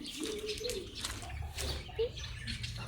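A hen clucks and coos softly in short bursts, faint and close, with a low rumble of background noise.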